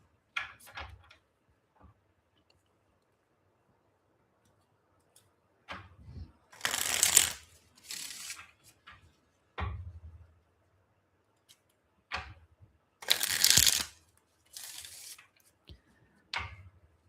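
Tarot cards shuffled in several separate bursts of crisp riffling and shuffling, loud and close, with quiet pauses between.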